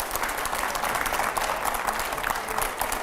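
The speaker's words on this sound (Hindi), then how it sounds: "पहले जोरदार तालियां हो, आखिरी सवाल।" A studio audience at a televised Hindi editors' talk show bursts into steady, dense clapping that holds at an even level throughout, with no voices standing out.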